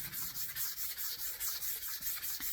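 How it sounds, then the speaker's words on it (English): Sandpaper rubs a wooden gunstock in steady, even back-and-forth passes, a rhythmic scratchy hiss repeating about four times a second, close and continuous with no talking. "You always want to sand with it, but we want to take even passes here too."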